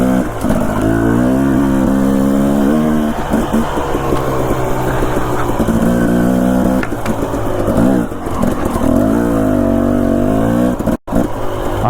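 A five-year-old dirt bike ridden along a mountain single-track trail in Idaho, its engine revving up and down loudly and close, rising and falling with throttle changes across the run, continuous with brief drops.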